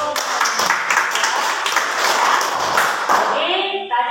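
A classroom of students claps their hands together in unison for about three seconds, a dense, close patter that stops abruptly before a voice begins speaking.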